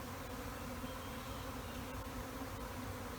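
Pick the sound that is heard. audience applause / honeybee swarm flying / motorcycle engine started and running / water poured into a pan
honeybee swarm flying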